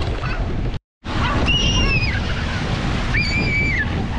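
Ocean waves wash onto a beach in a steady close rush of surf and wind noise, with voices and a short high call rising over the water.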